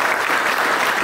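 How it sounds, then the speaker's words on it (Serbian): Steady, dense applause from an audience at a school anniversary gathering in Crna Bara, continuous and fairly loud with no gaps across the whole moment. "važno da on čuje aplauze"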